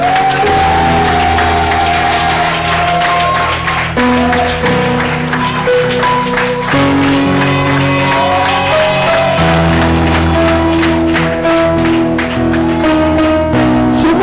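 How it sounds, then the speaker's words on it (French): A church congregation cheers and claps in acclamation of Jesus, a loud continuous roar of applause with whoops and shouts over sustained music, lasting the whole stretch. "Je veux une acclamation à la gloire de Jésus"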